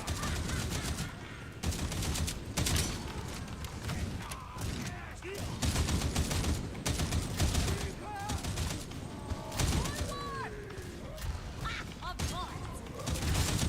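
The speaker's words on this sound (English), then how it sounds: "I've got volley fire, time to clean up." Volley fire rips through a battle in the video game Warhammer 40,000: Darktide: repeated bursts of rapid gunfire and heavy shots, loud and close, broken by brief pauses, with mechanical clatter mixed in.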